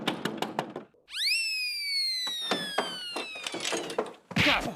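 Rapid, heavy knocks bang on a door, broken by a long descending whistle-like tone, then the pounding resumes.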